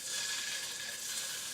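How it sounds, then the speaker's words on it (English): Pork loin pieces sizzling in hot oil in a pan, a steady bright crackling hiss that stays even and close throughout, with no voices over it. "A little sizzle's what we want."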